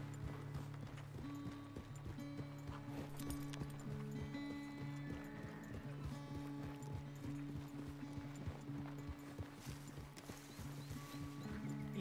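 Horse hooves clip-clopping at a walk on a farm, a steady rhythmic series of close, moderately soft hoof strikes, with an occasional low voice in the background.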